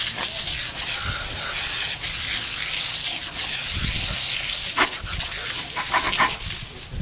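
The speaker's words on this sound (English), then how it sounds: "I'm not using a pressure wash, I'm just using high pressure wash." A high-pressure washer sprays a corroded car wheel, a loud continuous hiss with shifting spray tone and a few thumps up close, fading slightly at the end.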